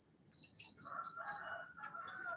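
A white and red rooster crows, a drawn-out call heard at moderate distance over a steady high hum, with a few chirping birds around it in a quiet rural setting in Thailand.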